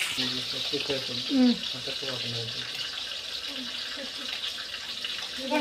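Fish pieces for a fish curry frying in a pan, giving a steady, close sizzle that runs throughout beneath a person speaking.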